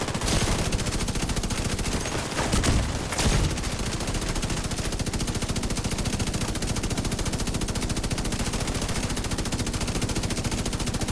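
Sustained automatic gunfire in the video game The Division 2, a fast, even rattle of shots running nonstop throughout, with a couple of heavier louder bursts early on and no talking.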